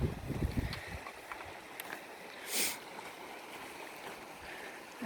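A river rushing beside a hiking trail on the Pacific Crest Trail, a soft, continuous broadband wash heard from nearby, with faint wind and a few footstep-like bumps and no talking.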